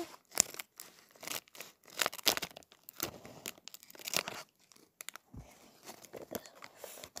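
A Lego minifigure foil bag being cut open with scissors, a series of close crinkling, snipping and tearing bursts spread unevenly throughout, with quiet gaps between them and no talking.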